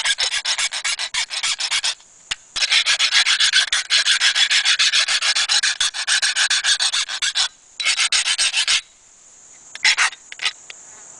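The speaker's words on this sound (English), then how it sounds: "I scratch my head with a file." A metal file rasping against a surface in quick rhythmic strokes, grouped in loud bursts broken by short pauses, close and with no talk.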